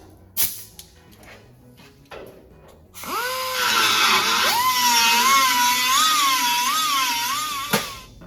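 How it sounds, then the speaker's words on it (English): Carbide burr grinding a rusty 1928 Ford Model A floor pan, preceded by a few short taps and knocks, then a loud, sustained high-pitched whine that rises and wavers as the burr bites into the metal. "I'll switch back to the carbide burr."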